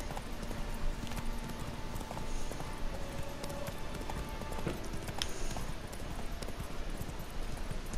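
Roach the horse's hooves clip-clop in a fast rhythmic gallop in The Witcher 3, moderately distant under game ambience, with no talking.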